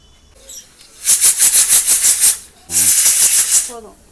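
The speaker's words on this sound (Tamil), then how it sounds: "விசில்லாம் அடித்து முடிச்சாச்சு ரெடி ஆயிடுச்சு பார்ப்போம் விசில் அடங்கட்டும் அந்த ஹீட் ஹீட் அடங்கட்டும்" A pressure cooker cooking biryani lets off bursts of steam after whistling, a loud rapid hissing pulse train followed by a second long hiss, with faint voices in the background.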